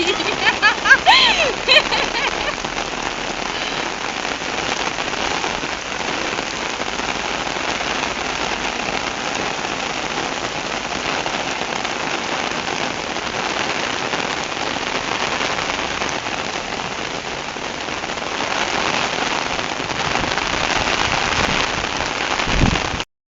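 Steady rain pours down on a hard surface, a dense continuous patter that stays loud and unbroken throughout.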